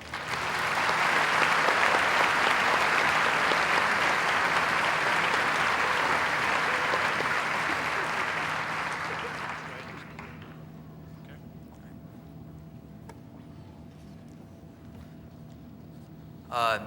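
Audience at a 2009 Wadsworth High School commencement applauds the valedictorian, a large crowd's sustained, roaring clapping lasting about nine seconds before dying away into a quiet hall with faint hum.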